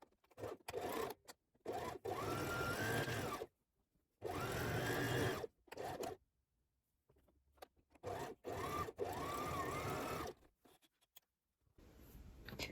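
A sewing machine runs in three long bursts and a few short ones, stitching fabric pieces for hair bows, close and fairly loud with near-silent pauses between runs.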